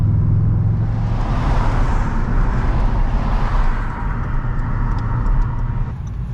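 A Subaru car with a short-throw shifter and a slightly smoking engine drones steadily while driving, a loud continuous engine and road roar that eases a little near the end.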